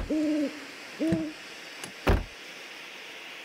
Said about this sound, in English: there's an owl lurking around. It keeps hooting and hollering at us